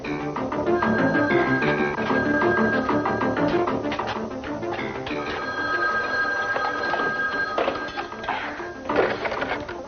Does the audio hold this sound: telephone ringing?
yes